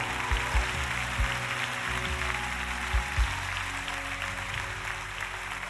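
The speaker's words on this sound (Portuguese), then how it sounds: "bata palmas se você sabe que é isso que Deus quer" A church congregation claps in a large room, a dense, broad wash of applause with a few louder nearby claps standing out, steady for several seconds without speech.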